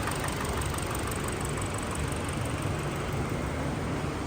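Hyundai Elantra 2.0 engine idling after an engine swap, warming up to temperature with the AC running: a steady, loud, dense mechanical drone with a faint knocking texture, continuous throughout and unbroken by speech.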